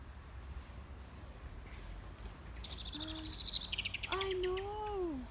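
A bird calls outdoors with a few clear, rising and falling whistled notes and a brief buzzy trill, moderately near over steady background hiss.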